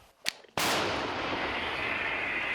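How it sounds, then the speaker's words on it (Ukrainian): An old artillery cannon fires, with a faint crack followed by one very loud, sharp blast that rolls into a long, steady roaring decay. "Ну хоч стара гармата, але працює"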